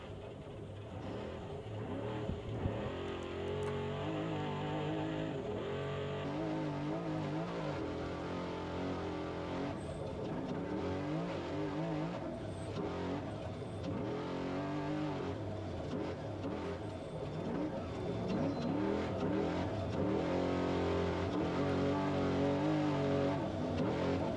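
Trophy Truck two-wheel-drive class race trucks roaring through a Baja off-road desert race qualifier, a continuous dense engine drone with shifting revs and pitch sweeps as vehicles pass, loud and unbroken throughout.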